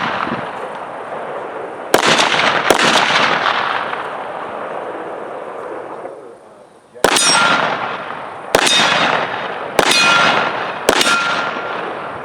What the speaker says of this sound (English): We love the sound reverberation and sound quality on this gong.